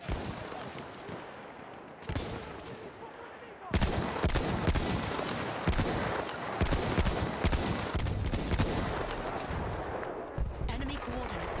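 Artillery barrage in the Battlefield 1 video game, a dense rumble that builds into repeated heavy booming blasts and crackling gunfire, loud and continuous throughout.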